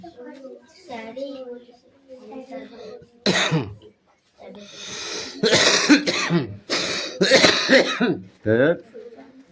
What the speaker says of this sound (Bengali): এত কাশি হয়েছে